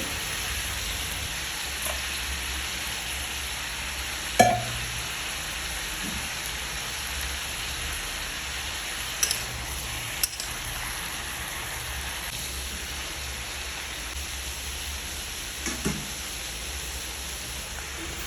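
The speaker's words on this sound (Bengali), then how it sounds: "তো ওদিকে আমি আলু আর সয়াবিনগুলো ভেজে ভাজছি" Potatoes and soybean chunks fry in oil in a pan for a spicy Bengali soybean-potato curry, giving a steady, even hiss of sizzling throughout, broken by a few brief clicks or utensil knocks, with no talking.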